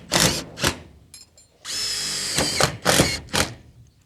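Cordless power drill driving screws through roofing sheets on a garden shed, heard as several short close bursts and one longer sustained whine, each ending with a light ratcheting tick.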